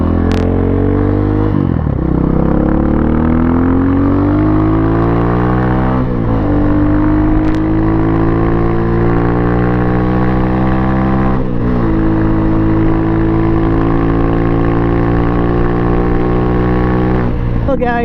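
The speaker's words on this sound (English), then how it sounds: "that's the Pitster Pro, and it's my first Chinese bike that I've ridden in a very long time" A Pitster Pro XTR250 dirt bike engine runs loud and close, its pitch repeatedly climbing through the gears and dropping at each shift. A few sharp clicks show up along the way.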